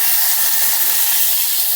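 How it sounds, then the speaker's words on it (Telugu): Two medium tomatoes drop into hot oil and set off a loud, close, continuous hissing sizzle that stays steady throughout with no voices. "ఇప్పుడు ఆయిల్ బాగా వేడెక్కిన తర్వాత ఒక 2 మీడియం సైజ్ టమాటాలు"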